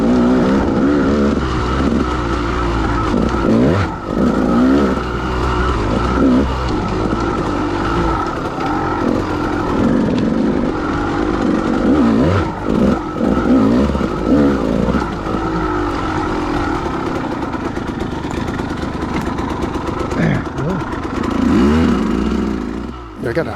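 A KTM dirt bike blasts along a trail at Clough State Park, its engine loud and close throughout, snarling continuously as the throttle rises and falls over bumps and jumps.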